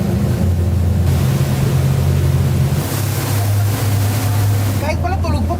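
A boat's engine drones steadily and loudly during a sea trial, with water rush and wind around it and a brief voice near the end.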